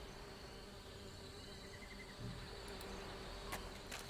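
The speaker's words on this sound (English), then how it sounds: "There are bees buzzing around all over the place and they're fighting the fire fairies for the nectar." Buzzing of bees swarming around a nest in a fantasy adventure game, a steady insect drone under a faint ambient bed, with a few brief brighter sounds near the end and no talking.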